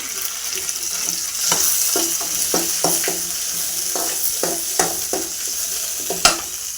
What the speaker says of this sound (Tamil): நம்ம கருவேப்பிலை போட்டுக்கலாம். பூண்டும் போட்டுக்கலாம்.